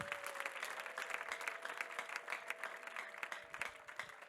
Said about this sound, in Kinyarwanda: Komera Imana amashyi menshi